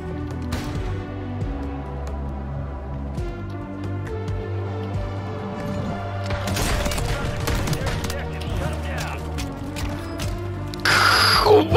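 Gunfire in the video game Plunder, bursts of rapid shots and mechanical clatter over steady game audio and music, growing denser midway and ending in a sharp burst.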